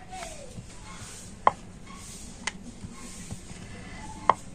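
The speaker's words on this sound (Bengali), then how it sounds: "তো হালকা চাপ দিয়ে এটাকে কিন্তু একটু বড় করে বেলে নিচ্ছি।" Flour-and-sugar dough for a crisp, syrupy sweet is rolled out with a rolling pin, giving a few sharp, sparse knocks and taps against a quiet kitchen background, with no talk.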